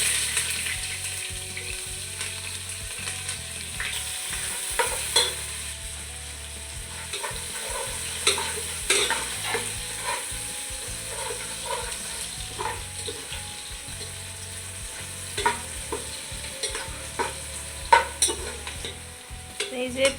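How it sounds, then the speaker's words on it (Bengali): Onions fry in hot oil in a wok, a constant sizzle broken by frequent scraping and clacking as they are stirred, with no one talking. "এই যে পেঁয়াজ ভাজা হয়ে গেছে"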